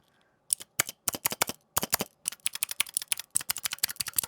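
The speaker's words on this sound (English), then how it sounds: "This is a fidget toy, but it makes such satisfying noises" A rapid string of sharp plastic clicks, irregular and close, like a fidget toy being pressed repeatedly, with no talking.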